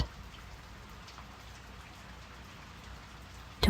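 Steady rain falls in a dense, even patter with many fine drops striking a surface, continuous and moderately close throughout, with no voices present.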